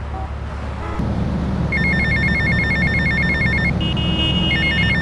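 A payphone rings in GTA Vice City, its electronic trill sounding in repeated bursts above a steady low rumble of in-game ambience, loud and close with no talking.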